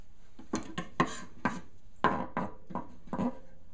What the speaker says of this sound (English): Now I'm going to finely chop my ginger root and my garlic.